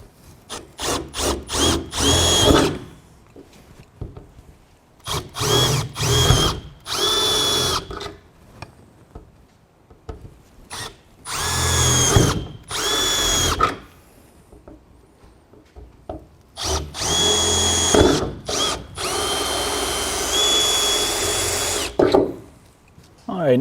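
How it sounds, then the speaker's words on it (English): A power drill whines in repeated bursts, biting through an enclosed trailer's roof with short pauses between runs, loud and close. "And then we can take our drill"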